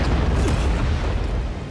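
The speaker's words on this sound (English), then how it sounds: "The actual explosion from Guts' arm cannon muffling everything" A heavy explosion from Guts' arm cannon in a Death Battle animated fight, heard as a loud, sustained low boom with crackling debris, filling the whole short stretch without talk.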